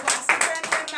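Congregation clapping in acclaim to God during a morning prayer gathering in Benin, a quick series of loud, crisp hand claps in a steady, irregular rhythm, heard close.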